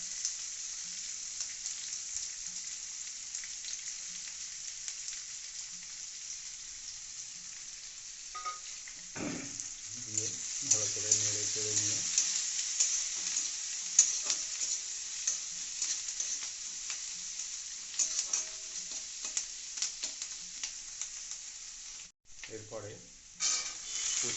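Chopped onion and green chilli fry in a pan after garlic and ginger, a faint steady sizzle interrupted by bursts of spatula stirring and scraping, with quiet background murmurs.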